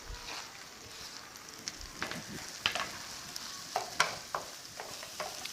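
Shredded cabbage stirred into a pan of frying ground garlic, ginger and green chili paste, with a soft steady sizzle broken by irregular scraping stir strokes and clanks, close by with no talking.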